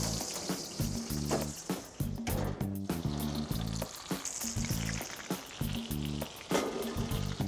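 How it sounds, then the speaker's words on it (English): Rib eye steaks sizzling loudly in a pan while being basted with butter and garlic, a dense continuous crackle with rhythmic spoon clatters and pours repeating close by. "So now we're basting the steaks,"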